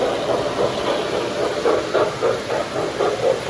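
A model train engine climbs uphill on a layout, giving a steady close mechanical whir with a soft rhythmic chuff that repeats about twice a second.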